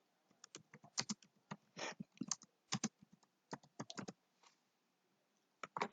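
A computer keyboard being typed on to enter a map title: quiet, irregular clusters of key clicks with short pauses between, close and clear in a silent room.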